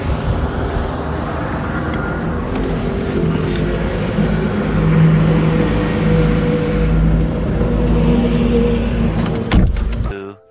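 A BMW cruises along the road on a long-distance trip, giving a continuous engine hum and road noise with a little traffic around it, cutting off abruptly at the end.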